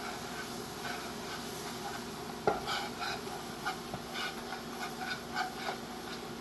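Four cloves of minced garlic sizzling in a hot pan, a steady soft frying hiss with a sharp clatter as it goes in, then light stirring scrapes pulsing along.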